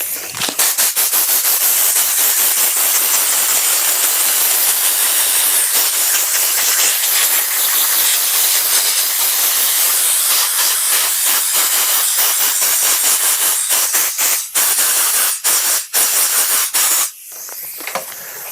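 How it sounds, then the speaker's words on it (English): A jewellery piece being given a quick dusting before being framed in a shadow box: a loud, continuous airy hiss that runs steadily for about seventeen seconds, with a few brief breaks near the end. "We're now going to give that a quick dusting."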